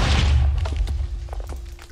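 A single bomb explosion in Minecraft gives a short, deep boom at the start, quickly fading into scattered faint clicks and taps.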